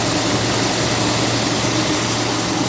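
The engine of a 1957 Lincoln Premiere runs steadily, a continuous dense rumble and hum with a low tone, loud and unbroken, with no voices over it.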